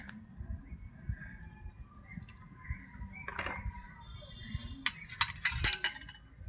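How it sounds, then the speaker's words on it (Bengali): A spoon mixes cornflour into a little liquid milk, mostly quiet at first, then a cluster of bright clinks against the glass or bowl near the end. "এই যে লিকুইড দুধ আমি রেখে দিয়েছিলাম একটুখানি এটা কিন্তু আমি মিশিয়ে নেব"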